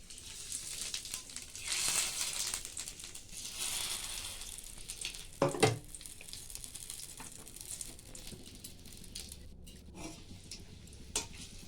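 Dry red chillies, bay leaves and nigella seeds hit hot oil for tempering, giving a steady frying sizzle with a brief louder crackle near the middle, no voices over it.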